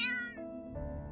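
A cat yowls in a horror story dub effect, giving a drawn-out, wavering meow that slides in pitch and grows strained, close and clear with no talk.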